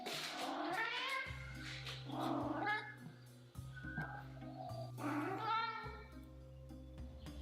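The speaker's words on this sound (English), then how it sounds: "Look at the size of that fucking cat." A big, angry-sounding cat yowls and meows in long, drawn-out wails, three or four loud caterwauls close by, with a steady low hum running underneath.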